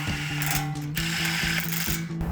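Ratchet wrench tightening 19 mm bolts on a 2016-2023 Toyota Tacoma front lower control arm, a steady run of close, loud clicking strokes with brief pauses between pulls.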